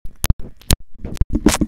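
Close, loud fumbling of a microphone, as if trying to open a drink: a rapid burst of sharp clicks, taps and scratchy scrapes with brief gaps, lasting under two seconds.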